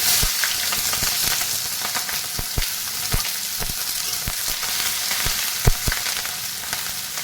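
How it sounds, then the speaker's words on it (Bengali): Chilli, bay leaf and chopped onion fry in mustard oil in a kadai, a steady bright sizzle with occasional sharp crackles and pops, close and continuous, no voices. "আমি এরপর কড়াইয়ে সর্ষের তেল দিয়ে দিলাম লঙ্কা তেজপাতা দিয়ে দিলাম লঙ্কা পেঁয়াজ কুচিটা দিয়ে দিলাম"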